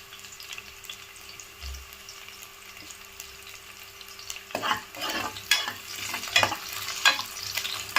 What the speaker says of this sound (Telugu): ఇందులో ఫ్రై ఆనియన్స్, చాప్ చేసిన పచ్చిమిర్చి, కరివేపాకు, బిర్యానీ ఆకులు వేసాను. అవి కొంచెం వేగాలి.